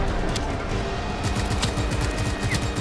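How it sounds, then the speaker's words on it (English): Scattered gunfire in the video game Just Cause 3 crackles through a dense, constant game din, with sharp shots popping at irregular intervals rather than standing out loudly on their own. "Who the fuck is shooting?"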